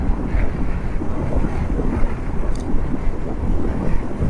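Riding a KTM Adventure 390 S motorcycle at 80 km/h gives a constant heavy rush of wind noise over a low engine rumble, loud and unbroken from start to end.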